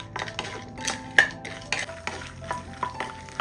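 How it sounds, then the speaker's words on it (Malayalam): Peanuts dry-roasting in a pan over a medium flame, stirred in a quick rhythmic run of scrapes and rattles with a faint sizzle beneath, close up and without voices. "ഈ നിലക്കടലയുടെ നിറമൊക്കെ ഒന്ന് മാറി ഒരു ഗോൾഡൻ കളർ ആവുന്നതുവരെ ഒന്ന് ഇളക്കി കൊടുക്കാം"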